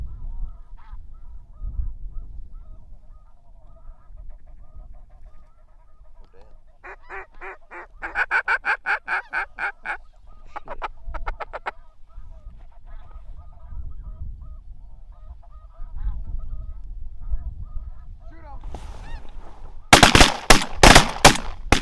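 Snow geese honk in bursts of rapid, nasal calls during a duck hunt in the field, with wind and faint movement between calls. A sharp shot-like burst comes near the end.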